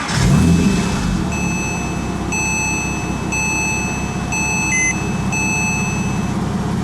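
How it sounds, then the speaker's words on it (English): A 2006 Porsche Cayman S engine turns over and then runs at a steady idle inside the car, with a series of regular electronic dashboard chimes sounding over the engine. "when I turn the car on here"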